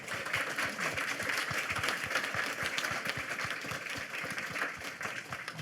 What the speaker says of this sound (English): A round of applause for these three gentlemen.